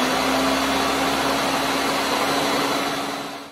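A blender whirs loudly up close as it purees cauliflower chicken pot pie soup, a steady high motor whine that holds for several seconds before winding down at the end.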